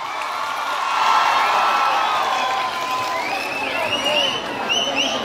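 An audience at a fair stage in Purba Bardhaman applauds, a broad swell of clapping and cheering that peaks early and holds, with whoops and raised voices scattered through the crowd.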